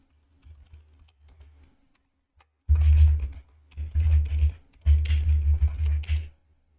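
Fingers tap out a password on an Android phone screen in quick irregular bursts of soft clicks and taps, with quieter scattered taps before the busier stretches.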